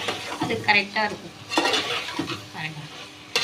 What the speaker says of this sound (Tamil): இப்போ நம்ம வந்து கொஞ்சம் ஹை ஃப்ளேம் பண்ணிவிட்டு லைட்டாக கொஞ்சம் இப்படி மிக்ஸ் பண்ணிட்டோன்னா